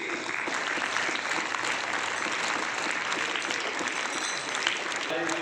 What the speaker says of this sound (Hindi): जोरदार तालियां इन बच्चियों के लिए